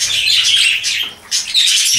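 Parrots and other birds call in an aviary, a busy layer of high chirps and tweets that runs nearly throughout and dips briefly in the middle.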